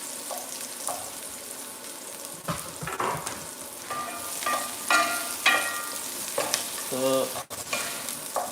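Garlic frying in a pan for Filipino fried rice, a steady sizzle with bursts of stirring and scraping throughout, close and fairly loud, with a brief spoken word near the start.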